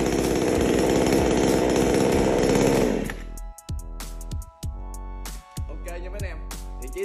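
A Bosco 5900 chainsaw with 45mm cylinder roars loudly at full throttle for a few seconds, then drops to a sputtering idle with short bursts of revving.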